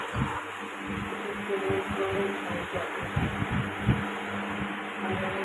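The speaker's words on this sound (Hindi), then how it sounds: "और आप सबको पंखा की आवाज़ आ रही होगी।" An electric fan runs indoors in a home, a steady whirring hum with a faint tonal drone and a few soft knocks, continuous throughout with no talking.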